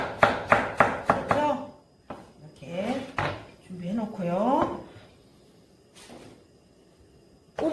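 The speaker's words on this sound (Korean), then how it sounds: "대파도 어슷하게 어슷하게 썰어야 되고" Knife slicing green onion diagonally on a cutting board in a home kitchen, a quick run of about six close, sharp chops at the start, then a voice talking with a few later knocks.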